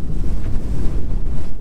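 An Outremer 55 sailing catamaran punches into short, sharp, choppy seas under sail, giving a steady roar of wind buffeting the microphone over low, rumbling water rush along the hull, continuous and fairly loud with no voices.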